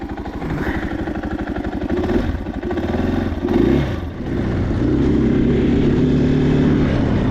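A KTM 500 EXC-F four-stroke dirt bike fitted with a Graves exhaust idles while warming up, a steady close low thumping putter that dips briefly then settles into an even drone.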